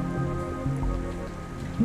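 Warm bath water in the Red Dead Redemption 2 game gives a steady watery wash, loud and continuous, with sustained tones running underneath.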